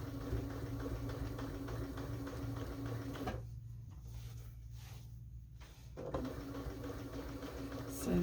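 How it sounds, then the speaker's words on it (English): A sewing machine stitches around heart shapes on a quilt, running steadily at moderate volume, pausing for a few seconds in the middle with brief bursts, then resuming its even whir. "I'm stitching around all these hearts."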